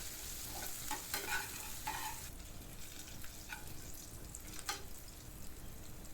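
Crushed green chilli and garlic sizzle in hot oil for goat leg soup, a steady crackling hiss broken by several sharp scraping stirs of a spoon in the pan, close and loud.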